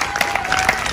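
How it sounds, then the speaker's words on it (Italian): Brief burst of crowd clapping at a gymnastics award ceremony, a dense patter of hands with a few sharper claps standing out over roughly a second. "Adesso facciamo un applauso a Sonia, la nostra responsabile,"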